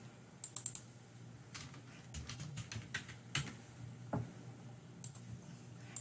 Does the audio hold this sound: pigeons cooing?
no